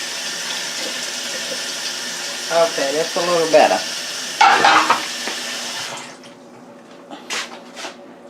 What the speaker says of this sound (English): Okay, I'm adding another cup of water.